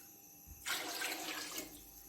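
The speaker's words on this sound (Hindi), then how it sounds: "तो अब मैं इसमें डालूंगी दुगना पानी।" Water pours into a pot of rice for beef pulao, a brief splashing gush that starts suddenly, runs about a second, then tapers off.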